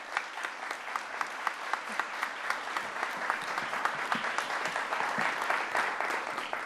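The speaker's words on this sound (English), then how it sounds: "Give yourselves a round of applause." At an AANHPI Heritage Month celebration, the audience claps for volunteers and partner organizations, a steady, fairly distant patter of many hands with a few sharper individual claps.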